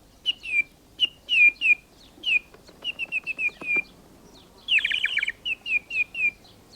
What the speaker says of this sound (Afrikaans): Die eerste voëls kom terug.